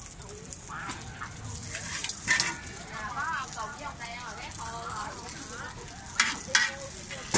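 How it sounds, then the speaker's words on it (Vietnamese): Vegetables sizzle in hot oil on a street-side fried rice-flour cake cart in Ho Chi Minh City, a steady close frying hiss under chatter from several people. "Chiên rau sớm để đây cho nó chút dầu."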